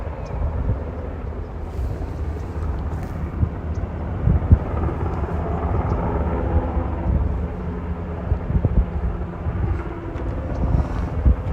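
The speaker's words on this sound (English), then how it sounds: "the Nighthawk helicopter is leaving without its bucket" A Nighthawk firefighting helicopter flies over the Border 2 wildfire on Otay Mountain in Southern California, a steady low rotor and engine rumble mixed with wind buffeting the microphone, continuous and moderately loud throughout.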